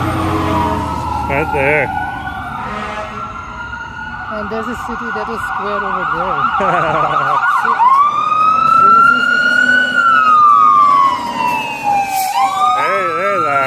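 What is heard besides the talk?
fire engine siren passing on street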